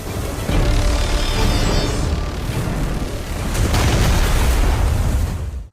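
A loud, roaring explosion with a rumbling low end that swells, briefly eases, then surges again before cutting off abruptly.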